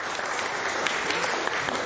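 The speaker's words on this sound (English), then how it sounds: "Let's give him a round of applause." Steady, dense applause from a large church congregation, clapping continuously at an even level without pause.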